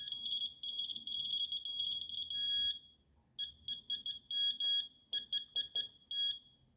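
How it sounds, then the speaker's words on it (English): High-pitched electronic beeps from a function generator repeat, first as a run of rapid tones, then as a series of short, evenly spaced chirps, alone and fairly quiet. "turn off the annoying beeping"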